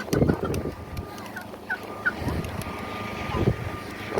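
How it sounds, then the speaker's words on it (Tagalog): A turkey gobbles in short warbling bursts close by, with poultry at a farm in the Kuwaiti desert, over a low outdoor rumble and soft background noise. "Ay, nakakatuwa kaya itong pabo niya."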